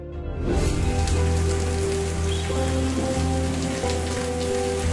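Steady heavy rain falls, with water running off a roof gutter into a vertical drainage well, a dense close patter and splash that continues evenly without voices.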